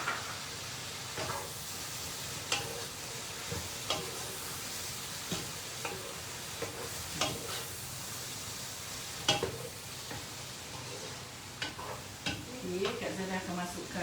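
Fried onions sizzle steadily in a hot pot of Turkish-style rice (nasi Turki) while a utensil stirs them in with repeated scraping strokes; a voice speaks faintly underneath at times.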